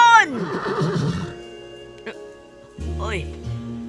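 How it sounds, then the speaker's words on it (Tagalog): A horse gives a loud, close whinny with falling pitch, followed by a shorter second neigh and a few faint hoof clops, while a person speaks at the end. "Oy, kabayo!"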